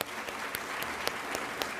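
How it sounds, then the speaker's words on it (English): Steady audience applause at a leadership event honoring a longtime Kentucky sportscaster, a dense wash of many hands clapping at an even, moderate level. "That deserves a hand clap."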